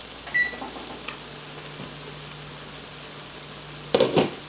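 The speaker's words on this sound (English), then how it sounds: "Let me cut that timer off." A kitchen timer beeps in a kitchen during skillet cooking, a short burst of bright electronic tones at the start and a louder beeping burst near the end over a low steady hum.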